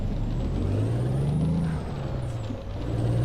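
Heavy truck pulling away in second gear in American Truck Simulator, a steady low diesel drone rising in pitch as it accelerates, then dipping briefly before climbing again, with no voices.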